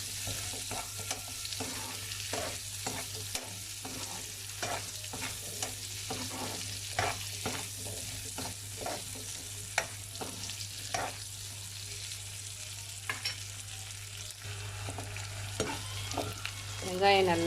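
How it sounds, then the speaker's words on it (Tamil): Shallots and garlic saute in hot oil with a steady sizzle while a spoon stirs and scrapes the pan in frequent irregular strokes, close and moderately loud, with no talking. "இதையும் போட்டு இந்த எண்ணெயிலே நல்லா வதக்கிடலாம்."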